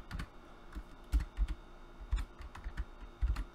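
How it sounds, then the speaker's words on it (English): Slow, irregular typing on a computer keyboard: scattered individual key clicks with uneven pauses, close and clear, with no talking. "Sorry for my slow typing. You guys could probably hear that."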